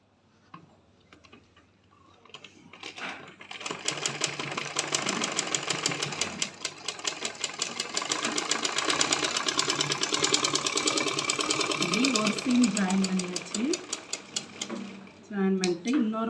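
A sewing machine stitches a side seam on panties, a rapid continuous mechanical ticking that starts up, runs steadily for a long stretch, then slows and stops, with a voice talking over it.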